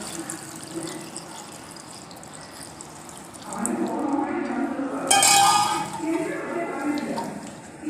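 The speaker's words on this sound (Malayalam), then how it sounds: "കുറച്ച് വെള്ളം ഒഴിക്കുക" Water pours into a cooking pot of elephant foot yam with turmeric and salt, a rushing splash that swells midway, while a person talks nearby.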